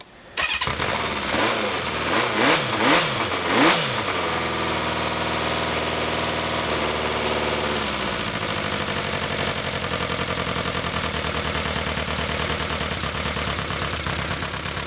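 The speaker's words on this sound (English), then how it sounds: "these things are cold. It's hard for them to idle." A cold motorcycle engine, choke pulled, sputters through a few uneven revs right after starting, then settles into a loud, rough, struggling idle that continues steadily up close, with no speech.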